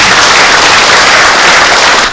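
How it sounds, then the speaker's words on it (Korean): Dense, loud applause from an audience at a Korean Buddhist workshop on Buddhism and the fourth industrial revolution, a steady wash of many hands clapping without pause. "다시 한번 박수 부탁드립니다"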